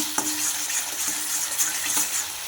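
Spices and tomato frying in oil for a cauliflower curry, a steady hissing sizzle with faint stirring clinks throughout, close and fairly loud.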